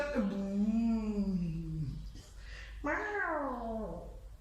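Children imitate a cat with two long, drawn-out meows, one after the other with a short pause between them.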